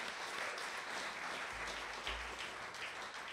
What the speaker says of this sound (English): And you can applaud